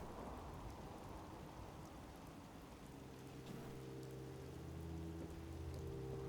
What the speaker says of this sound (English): Well, it's raining intermittently.